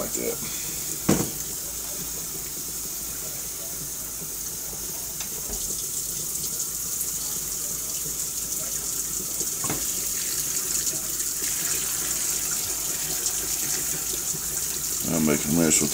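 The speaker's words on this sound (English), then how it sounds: "I'm making a mess with the water." Water runs and splashes into a pot of seasoned green beans being cooked slowly on the stove, a steady pouring hiss with occasional clinks and stirring sounds over roughly sixteen seconds.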